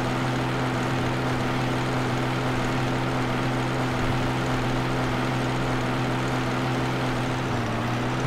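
A tractor engine in Farming Simulator 2015 drones steadily and loudly at close range, a constant low hum with a strong tonal whine, dipping slightly in pitch near the end.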